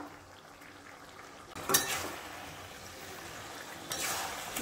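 Chicken sautéed in a pan with ground coriander, cumin and chicken curry masala, heard as a quiet, steady low sizzle with a couple of brief, brighter bursts of stirring and scraping, and no talking.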